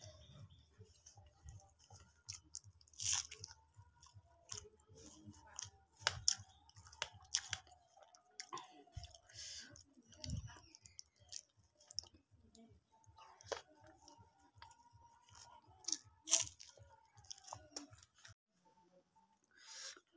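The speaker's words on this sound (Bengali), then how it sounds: "সকালের খাবার খেয়ে নিতেছি, মূলা ভাজি, ডিম ভাজি, শুকনা মরিচ ভাজি আর সরিষা শাক ভাজি" Someone eats a breakfast of fried radish, fried egg, dried chili and mustard greens, with quiet, close, rhythmic chewing and occasional crisp clicks and bites over a long stretch, with little else heard.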